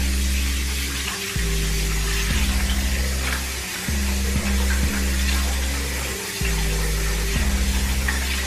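Medium-flow water runs from a tap into a sink filling for washing durags, a steady splashing rush that cuts off and restarts several times in a regular on-off pattern, with no talk.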